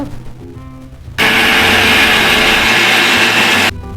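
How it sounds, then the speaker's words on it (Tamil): A mixer grinder whirs loudly and steadily for a few seconds, blending aloe vera and herbs into a smooth paste, switching on abruptly and cutting off just as suddenly. "இதையும் சேர்த்து நல்லா நைஸாக கொஞ்சம் நேரம் ஓட விட்டு நல்லா மை போல் அரைச்சி எடுத்துருங்க"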